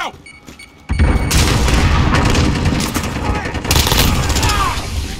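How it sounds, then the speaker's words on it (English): A grenade blast in a first-person shooter video game: a loud burst of booming, gunfire-like noise erupts after a quiet second and rumbles on continuously, with further crackling shots near the end. "Grenade out!"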